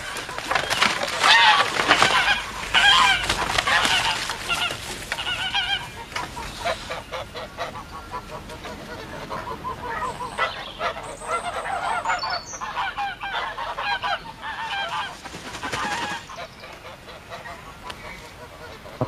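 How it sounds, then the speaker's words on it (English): Geese in a yard honk loudly and repeatedly in a dense, overlapping chorus of harsh calls that continues throughout, close and with no talking. "I looked at the geese, which was hissing and huddling in the corner of the yard."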